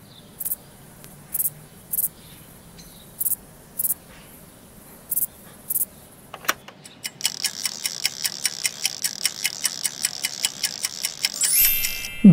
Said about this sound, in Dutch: De sprinkhaan.